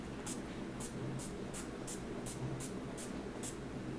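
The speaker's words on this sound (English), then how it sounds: "I'm now going to go in with the Urban Decay Deslick Makeup Setting Spray." Urban Decay De-Slick makeup setting spray is pumped about nine times in a steady rhythm, each a short, soft hiss close to the microphone over a constant background hum.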